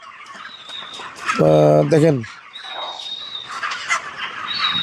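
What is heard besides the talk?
broiler chickens clucking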